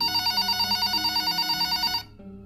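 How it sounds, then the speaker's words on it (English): A bright electronic telephone bell trills in rapid pulses for two seconds, then cuts off abruptly, leaving a faint low hum. "A ringing noise interrupted her,"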